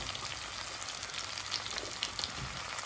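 Brinjal pieces sizzle and fry in a pan for a brinjal theeyal, a steady close crackle of hot oil with faint clinks of stirring, no voices.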